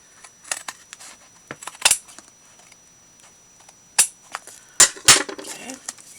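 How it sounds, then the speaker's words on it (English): Scissors snipping off a cardboard flap along a score mark for a Christmas ornament craft, a few sharp clipped cuts spaced irregularly with quiet rustling of the cardboard between them. "can cut this whole flap off right here"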